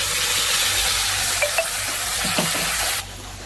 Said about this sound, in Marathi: मसाल्याला चांगला तेल सुटेपर्यंत परतून घेऊया